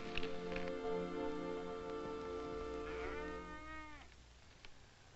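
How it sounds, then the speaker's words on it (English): Cattle mooing on a ranch, a long, loud, sustained low call that bends and fades out after about four seconds, backed by faint rustling noise. "Bring your cattle right in."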